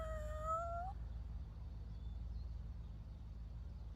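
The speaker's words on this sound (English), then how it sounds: "I was so worried I'd run over you, little kitty." A single cat meows once, a short, clear, rising mew up close, followed by a quiet low rumble like a vehicle idling nearby.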